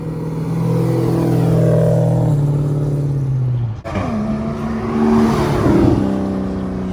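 A Toyota Supra making over 1000 horsepower revs hard as it pulls away from a car meet, its engine note climbing and falling, a brief cut near the middle, then rising again, loud and close.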